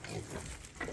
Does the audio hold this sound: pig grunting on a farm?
yes